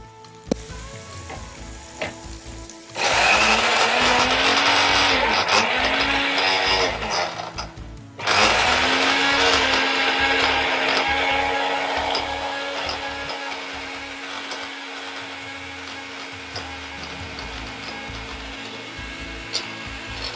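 A mixer grinder blends grilled capsicum chutney ingredients in two loud bursts, the first cutting off briefly before the motor whirs again and gradually eases down, with no talk over it.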